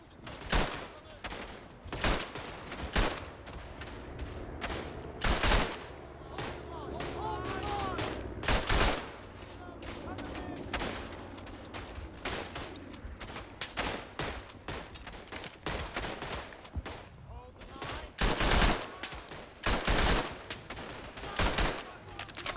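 Gunfire in Verdun, the World War I shooter: repeated loud, close shots in short bursts and single cracks, spread irregularly over a steady din of battle.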